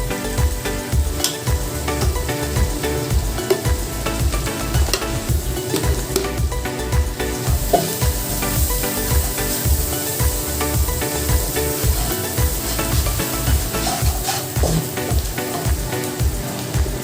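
Turmeric powder sizzling and frying in a hot pan while being stirred, for a lentil and egg dish; a steady close crackle with a continuous rhythmic scraping of stirring throughout.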